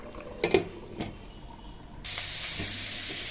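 Pulao made with coconut milk cooks in a pot: faint clinks and stirring at first, then a steady loud hiss of steam or sizzling takes over and continues.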